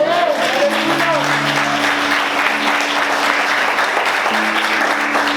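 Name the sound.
church congregation applauding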